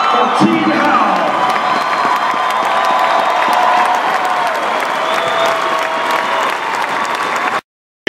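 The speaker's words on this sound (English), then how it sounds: "Let's hear it for Team Howell." A large audience applauds and cheers loudly for the 2014 Bassmaster Classic bass fishing champion, a dense, steady wash of clapping and whoops that holds for several seconds before cutting off.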